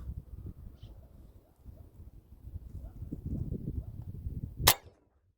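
A single sharp, loud crack near the end as a Sumatra .22 air rifle fires a 26 grain slug, coming after several seconds of low handling rustle and shuffling.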